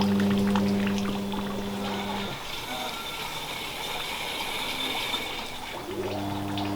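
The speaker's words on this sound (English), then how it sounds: "The water's not flowing as well as it might because of the mud in there." Water flows sluggishly through mud, a steady rushing pour with a machine hum fading out midway and returning near the end.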